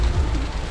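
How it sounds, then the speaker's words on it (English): Hail pelts down around Milford Sound, New Zealand, a loud, close, continuous patter of stones striking surfaces, heard alone for under a second. "It's hailing. Look at the hail."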